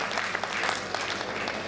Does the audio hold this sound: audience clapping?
yes